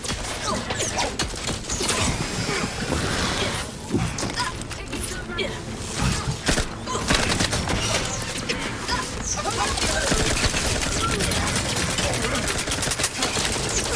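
Enemies fire at the player in The Outer Worlds 2: rapid, loud bursts of gunfire mixed with crashes and mechanical clatter run almost without pause, with a person talking over the game's action.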